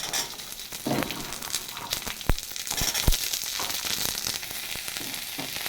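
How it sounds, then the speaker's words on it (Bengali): Green peas fry in a pan with onions and a little oil, giving a steady bright sizzle punctuated by a few sharp clicks and scrapes of stirring, close and without speech. "মটরশুঁটি ভাজা হয়ে গেছে দিয়ে দিলাম দুখানা ডিম"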